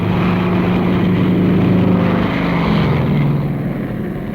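A propeller aircraft comes in to land on an aircraft carrier, its engine making a loud, steady, throbbing drone that holds for several seconds and eases slightly toward the end.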